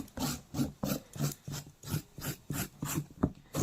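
A carrot being grated by hand in a home kitchen, a steady run of about ten rhythmic rasping strokes, close and fairly loud, with no talk.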